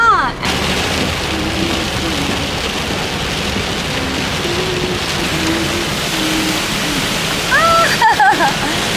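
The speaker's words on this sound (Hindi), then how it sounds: "It's raining, it's pouring" Steady rain pouring down during a family trip to Shimla, a constant broad hiss that fills the whole stretch, with a faint voice near the end.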